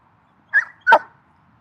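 Puppies in the shade on a hot New Jersey day give two quick yipping barks, close and clear against quiet surroundings.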